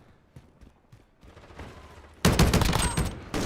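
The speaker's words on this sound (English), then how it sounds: "Sounds like the AA-12" Rapid automatic shotgun fire from an AA-12 in a multiplayer video game, starting as faint scattered shots and then erupting into a loud, sustained burst of dense blasts over the last second and a half.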